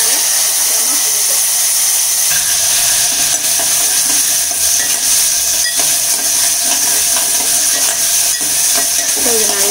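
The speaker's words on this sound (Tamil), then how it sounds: "வெங்காயம் நல்லா வதங்கணும்." Small onions sauté in hot oil for a payaru kuzhambu lunch, giving a loud, continuous sizzling hiss that stays steady throughout, with faint stirring clatter underneath.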